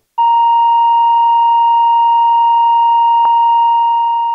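A synthesizer holds a steady, unwavering electronic tone, broken by a sharp click at the onset and a distinct glitchy pop partway through as its cycling envelope wraps around.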